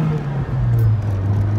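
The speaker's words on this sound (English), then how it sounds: "Just revving it deliberately high" A Saab car's engine revs deliberately high while pulling away on the road, a steady loud drone whose pitch holds and then climbs slightly, close and continuous through the short stretch.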